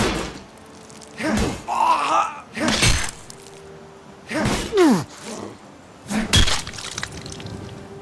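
Weapon strikes landing on flesh in modded Skyrim: several heavy, wet thuds come in separate bursts, each followed by a pained grunt or groan, loud and close with short quiet gaps between hits.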